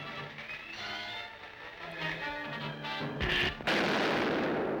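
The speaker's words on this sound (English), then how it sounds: "Some sort of a war tank." Tank cannon fire from an old science fiction film: a low droning hum with a faint whine gives way to a sudden loud blast and a sustained roaring rumble, heard without any speech.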